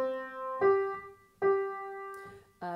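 Piano notes from the children's tune 'Two Little Dicky Birds' played alone: three struck notes at a steady, unhurried pace, each ringing and fading before the next, the last strike bringing a fuller, lower sound.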